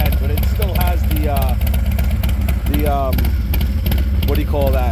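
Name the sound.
Harley Davidson Low Rider S motorcycle exhaust running loud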